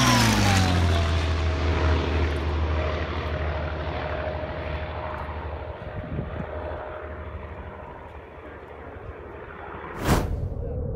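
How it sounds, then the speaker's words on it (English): A Messerschmitt BF-109 with a supercharger makes a low pass, a loud sustained propeller-engine roar with a steady whining tone that slowly settles, plus a brief sharp burst near the end. "BF-109 Supercharger Low Pass."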